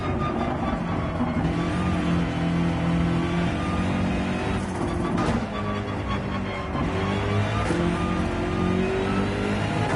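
A BMW Gr.3 race car engine in Gran Turismo 7 drones steadily and loudly throughout, its pitch rising and dipping slightly with throttle changes, with no talking.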